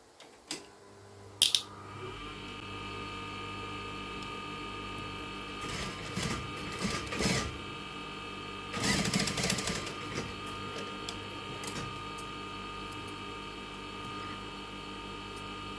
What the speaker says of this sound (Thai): ตรงนี้เดี๋ยวเราไปเย็บติดนะคะ แล้วก็โพ้งให้เรียบร้อย